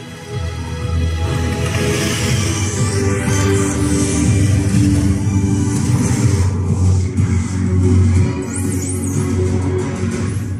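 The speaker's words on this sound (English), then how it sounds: "So what you just heard there is a soundbar from Sony." Sony HT-S400 soundbar with wireless subwoofer playing a cinematic soundtrack, heavy low rumble and swelling tones filling the room continuously at a loud, steady level.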